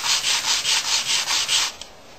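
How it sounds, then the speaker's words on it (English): A wooden guitar fretboard is sanded with about eight quick, even back-and-forth strokes, each a close, bright rasp. The strokes stop abruptly, followed by a small tap and quiet. "It needs to be sanded some, just put it up on the edge."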